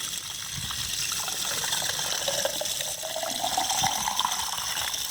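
A steady stream of water from a solar-powered pump pours and trickles from an outdoor hose faucet, a constant close rushing hiss with a rising gurgle as a container fills.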